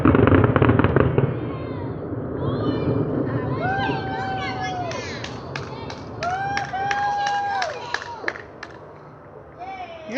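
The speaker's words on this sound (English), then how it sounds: "they're using real fireworks this time" A Fourth of July fireworks finale bursts in a rapid barrage of loud cracks and booms, then thins to scattered pops and whistling shells at a distance, with a crowd and voices audible.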